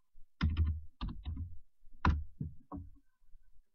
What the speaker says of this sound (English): Not the best at typing, but anyway.